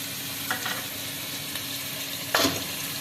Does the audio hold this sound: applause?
no